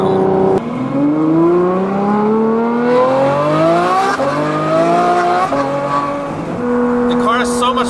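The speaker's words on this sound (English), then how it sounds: "we're gonna show him what a Ferrari is supposed to sound like" A Ferrari F12 Berlinetta with a Fi exhaust screams past, its engine note climbing steadily in pitch through a long pull, briefly dropping and surging again, loud and close with a hint of tyre squeal.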